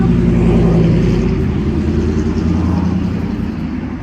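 Steady after-work road traffic, with cars and engines rumbling close by in a loud, continuous wash that slowly eases toward the end.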